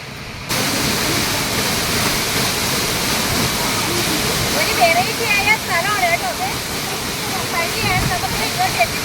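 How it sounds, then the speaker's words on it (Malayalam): A mountain waterfall roars as a steady, loud broadband rush of falling water, with birdsong chirping faintly above it partway through. "ആ മലയുടെ മുകളിൽ നിന്ന് ഒഴുകി വരുന്ന വെള്ളം കണ്ടോ"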